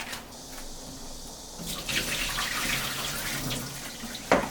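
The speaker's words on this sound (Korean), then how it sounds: "팍팍 이렇게 문질러가지고서 파란물이 안 나올 때까지 깨끗이 헹궈주면 돼요" Torn pumpkin leaves are rinsed and rubbed under running tap water in a kitchen sink, a continuous close splashing rush that swells midway, ending with a sharp knock.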